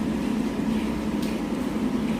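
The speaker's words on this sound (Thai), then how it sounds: "เครื่องยนต์เรามีปัญหานิดหน่อยนะ" A truck engine with a slight fault runs steadily while driving in the USA toward Los Angeles, a continuous low rumbling drone with a constant hum and no voices.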